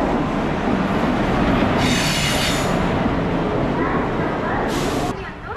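Bangriposi Superfast Express arriving at Jajpur Keonjhar Road station in Odisha, a steady loud rumble of railcars rolling past with wheel squeal and rhythmic clatter, easing slightly near the end, with voices in the background.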